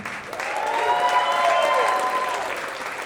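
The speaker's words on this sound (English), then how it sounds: "And how about a hand for that band?" A crowd applauds a band at Rootabaga 2025 with a continuous wash of clapping that swells slightly midway and then tapers, while sustained tones ring faintly beneath it.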